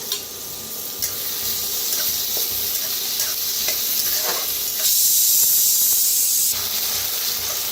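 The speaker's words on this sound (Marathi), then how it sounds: "छान असं भाजून घेऊया कांदा आणि कढीपत्ता, मिरची, लसूण।" Chopped onion, curry leaves and crushed green chili with garlic fry in a hot pan, giving a loud, continuous sizzle and hiss with occasional stirring scrapes and a sharper burst of spitting partway through.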